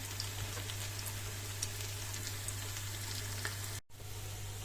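Oil sizzles steadily with crackling pops as potato pancakes fry in a pan, under a low constant hum, briefly cutting out near the end.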